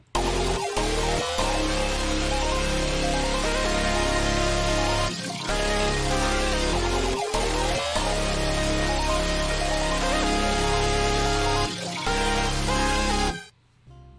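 A robotic, vocoder-processed vocal loop repeats with gliding pitch shifts, its voicing automated from male to female, over a steady beat, ending abruptly.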